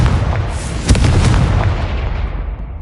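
Confringo, an explosive fire spell cast in Hogwarts Legacy, lands as a deep booming blast near the start, followed by a rumbling, crackling tail that slowly fades. No talk.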